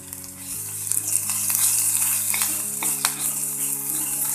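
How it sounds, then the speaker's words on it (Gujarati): Ginger paste and garlic paste sizzle with cumin seeds in a pan, a steady close frying hiss, with a low hum running under it and no talking. "હવે આ બંને થોડું શેકાય ત્યાં સુધી રહેવા દઈએ"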